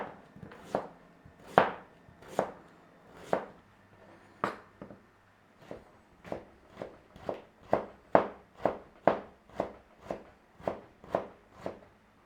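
A knife slices daikon radish thinly on a cutting board for homemade kimchi. Crisp chops land close and clear, sparse at first, then settle into a fast, even rhythm of about two strokes per second.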